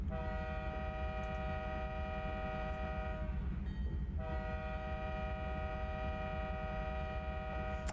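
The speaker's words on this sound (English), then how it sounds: "Whistle." Steady locomotive whistle from a train simulator game, blown as the engine nears a road crossing, holding a long horn chord that dips briefly midway over constant rumbling engine and track noise.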